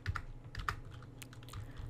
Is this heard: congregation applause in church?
no